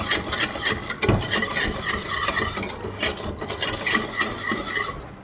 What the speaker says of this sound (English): And you whisk it.